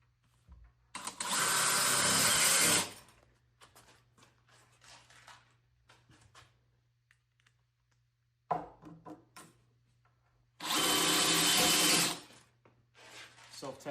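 A cordless drill on standard settings drives self-tapping screws into an oak whiskey barrel in two loud whirring bursts of about two seconds each. Quiet handling noises fill the gaps between them.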